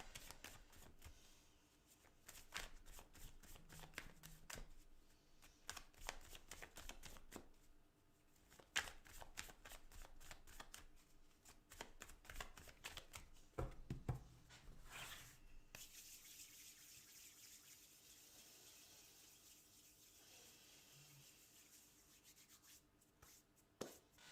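Tarot cards being shuffled by hand, a long run of dense riffling and rubbing bursts with brief pauses between rounds, close and fairly quiet with no talking.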